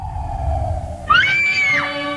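A woman's high, sustained scream from the 1961 sci-fi film The Phantom Planet rises sharply and then fades, ringing out over a low rumbling soundtrack.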